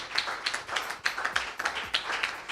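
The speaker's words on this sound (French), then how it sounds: "Acclamons pour la 4e personne." A church congregation applauds during a sermon by Pastor Bill Kalala in Toulouse, with scattered, uneven claps in irregular bursts at a moderate distance and no talk over them.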